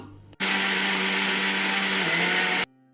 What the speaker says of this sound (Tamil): அடுத்ததாக வெங்காயத்தையும் பழப்புளியையும் போட்டு அரைச்செடுக்கணும்